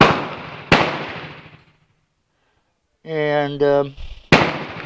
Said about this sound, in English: I'm just trying to zero this thing real quick